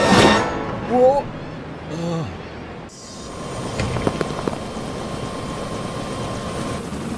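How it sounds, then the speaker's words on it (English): Helicopter flying in the Lego City Undercover video game, a steady rotor and engine drone that settles in after a few short game sounds and effects at the start, holding at moderate loudness to the end. "So it looks like I know how to fly a helicopter then."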